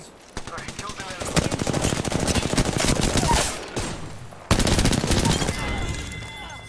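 Rapid automatic gunfire in a shooter video game, long loud bursts of close machine-gun fire with a brief pause before another burst, with a player's voice talking over the shooting.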